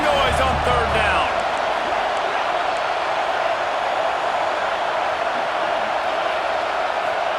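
Stadium crowd roaring on third down in EA Sports College Football 26, a dense steady wall of crowd noise with a commentator talking over it.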